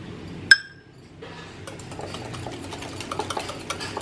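Thick yogurt is beaten in a bowl for banana muffins: one sharp clink of utensil on bowl, a brief pause, then steady light scraping and tapping that grows busier toward the end, with no talking.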